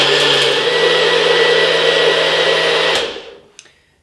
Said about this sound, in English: put it into the blender